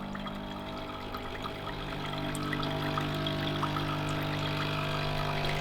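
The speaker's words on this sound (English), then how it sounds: "it's going to rinse through some fresh water now" A Philips L'OR Barista Sublime Compact coffee machine rinsing fresh water through during descaling: a steady pump hum with trickling, gurgling water that grows slightly louder partway in, close and continuous.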